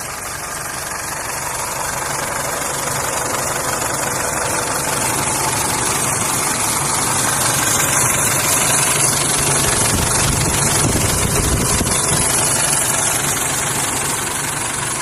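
A 2005 Isuzu D-Max SX pickup with a 2.5-litre common-rail diesel and manual gearbox idles steadily and loudly up close, a continuous clattering rumble with slight knock and no voices.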